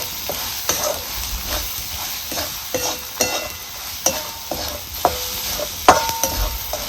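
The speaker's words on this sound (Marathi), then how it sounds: "चांगला हिव मसाला आपल्याला हलवून घ्यायचा" Masala sizzles gently in a pan as it is stirred for a village-style matki dal kanda, with repeated spoon scrapes and taps against the metal over a steady frying hiss.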